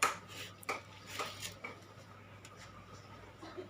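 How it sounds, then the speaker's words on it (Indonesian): Klepon dough being mixed in a bowl, with faint scattered clinks and scrapes of a spoon against the bowl, quiet and close with a low steady hum underneath. "Sekarang kita aduk."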